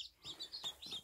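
Newly hatched Cheonggye chicks give rapid, high, thin peeps, several short chirps in quick succession, close by and faint with no talk.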